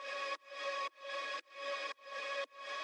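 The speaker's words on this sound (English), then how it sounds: "Then I found this nice voice drone sample that sounds like this." A voice drone sample pulses in six even, sustained tonal bursts with short gaps, each swelling and cutting off abruptly in a steady rhythm, moderately quiet and alone.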